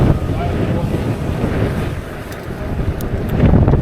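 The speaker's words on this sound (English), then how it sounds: "Now the wind's blowing." Wind buffets the microphone during a ride as a steady, loud rushing roar with a low rumble. It swells slightly toward the end.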